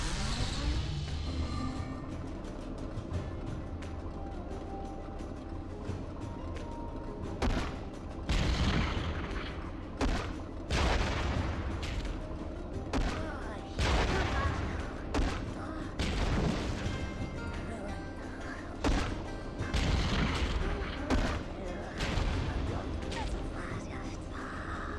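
Turret gunfire in Skylanders Spyro's Adventure at Sky Schooner Docks, repeated shots and booming impacts over steady game music, with bursts clustering through the second half.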